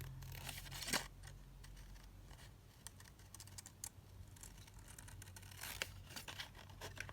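Scissors snip around paper pieces for an English country garden junk journal kit, a few quiet, crisp cuts spread over a hushed background with no talking.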